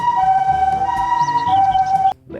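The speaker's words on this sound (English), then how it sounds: "Oh, ambulance." Ambulance siren wailing steadily and loudly nearby, a sustained two-tone electronic tone that cuts off abruptly near the end, leaving quieter street traffic noise.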